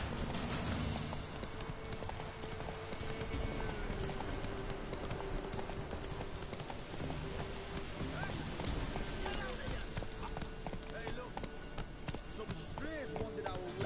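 Hooves of Roach, the horse in The Witcher video game, clip-clop in a steady trotting rhythm, loud and close, layered over game music with voices talking throughout.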